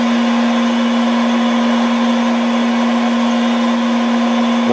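A lathe driven by a variable frequency drive running at higher RPM, a loud, steady machine whine with a strong constant tone and even broadband hum, unchanging throughout, no voices.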